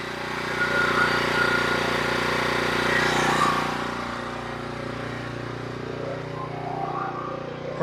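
A Norwood HD36v2 portable sawmill's engine fires up and runs loudly nearby, its steady motor drone easing to a lower idle after a few seconds with a brief clunk at the end.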